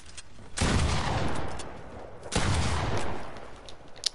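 Fortnite gunfire: two loud, close bursts of shots roughly two seconds apart, each trailing off into a noisy decay, with no voices over them.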